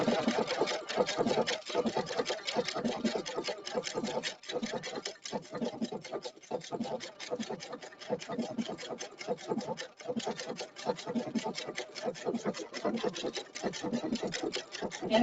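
A sewing machine stitches fabric in a rapid, steady mechanical chatter, close and continuous with brief slowdowns, running alone without talk.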